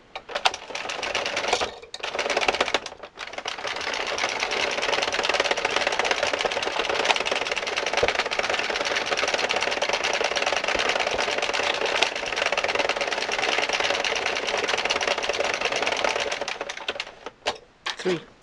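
Addi knitting machine cranked through rows of a long red and brown striped winter scarf, a steady continuous mechanical clatter for most of the clip, with brief pauses near the start and end.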